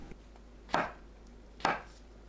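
Knife cutting shiitake mushroom caps into half-centimetre slices on a board, two distinct soft thuds spaced about a second apart in a quiet kitchen.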